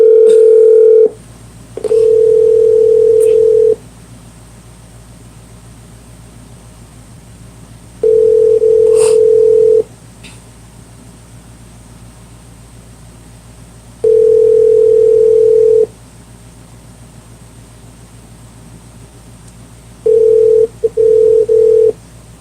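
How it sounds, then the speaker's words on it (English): Telephone ringback tone on an outgoing call, loud repeated steady beeps of about two seconds each separated by longer silences, heard close with no talking. "Let's call Boo Rudy"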